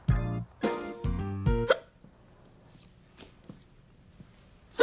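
A person hiccups several times in quick succession with loud, sharp, voiced gulps close up, then several fainter clicks follow in near silence.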